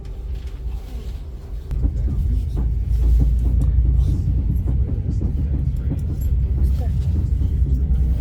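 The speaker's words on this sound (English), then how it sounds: "No, it's the suspension of the train." Deep, continuous rumbling and throbbing from the suspension of a moving first-class V/Line train car, with irregular knocks and clunks over the low drone.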